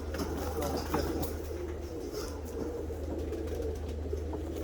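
Tippler pigeons coo softly inside a loft, their low murmuring set against a steady hum and light rustling, while someone talks over them now and then.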